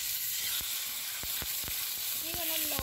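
Potatoes sizzling in a frying pan with a touch of olive oil, a steady close hiss broken by a few sharp utensil scrapes and clicks as they are stirred.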